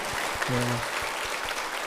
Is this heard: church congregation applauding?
yes